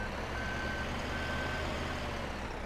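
A truck in Farming Simulator 17 sounds steady reversing beeps, evenly spaced tones over a loud continuous engine drone, with no voices.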